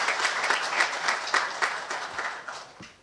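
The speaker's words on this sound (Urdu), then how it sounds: "اس کے لیے تالیاں ہونی چاہیے کیونکہ ہری پور کو یہ 3 پوزیشن چلے گئے۔" Applause at a Government College of Management Sciences Haripur prize distribution ceremony, a steady crowd clapping that swells and fades over a few seconds with no speech.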